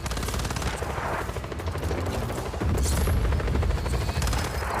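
In a video game, a helicopter chops away while bursts of gunfire and booms rattle nonstop, a dense, loud, close barrage with a steady rhythmic rotor pulse underneath.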